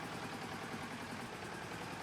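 In Farming Simulator 19, a tractor engine idles lightly while rolling downhill, a faint, steady low rumble with no load changes, alone and unbroken for the whole moment.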